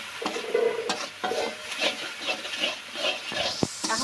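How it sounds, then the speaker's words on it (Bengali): Spices for a duck curry are stir-fried in a pan, with a spatula scraping and clinking close up against a faint sizzle, in irregular stirring strokes and no talking. "এখন মশলাটা সুন্দর করে কষাই নিব।"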